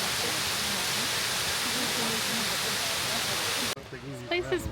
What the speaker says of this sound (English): It's a great waterfall